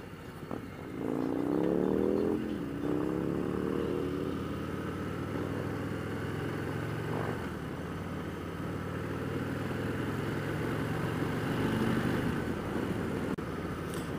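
A 2018 Harley-Davidson Heritage Classic 114 cruising on the road in fifth gear, its engine a steady, moderately loud drone with rising harmonics early on as it accelerates, then a smooth, even rumble with wind noise throughout.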